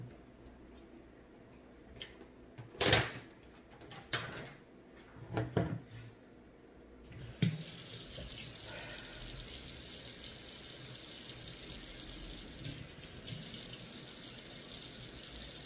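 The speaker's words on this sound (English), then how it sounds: "So I'm just rinsing a handful of my spring mix." A kitchen tap runs over a handful of spring mix greens, a steady hissing water stream that starts after a few clunks and knocks and continues to the end.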